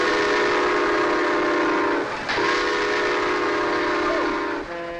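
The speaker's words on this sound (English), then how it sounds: "I love to watch you play with these trains." Lionel toy trains run with a sustained, tonal whistle-like hum that briefly drops out and returns, loud and steady with small shifts in pitch.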